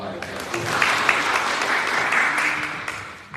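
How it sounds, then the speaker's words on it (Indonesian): Congregation clapping during a church worship service, a dense, steady wash of applause lasting throughout, with voices calling out over the top. "Kita beri tepuk tangan yang baik."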